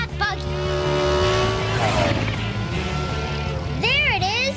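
A cartoon racing vehicle speeds along with a loud, steady engine whine that sweeps in pitch, ending in wavering, squealing tones; the sound is close and continuous.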